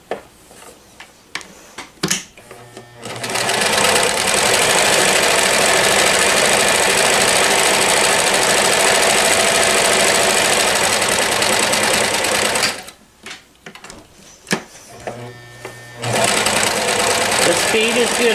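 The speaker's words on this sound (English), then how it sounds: "I have a tendency to go fast when I'm sewing, but you don't have to sew that fast." A 1994 New Home Special Edition Model 108 sewing machine runs fast and steady for about ten seconds, loud and close, with short bursts before and after and talk in the pauses between stitching runs.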